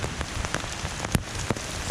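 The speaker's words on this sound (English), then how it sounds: "Come to rain again, pouring." Pouring rain outdoors during a lightning storm in Guadalupe, Colombia: a dense, steady hiss of heavy rain striking surfaces, loud and close, with a few sharper drop impacts and no voices.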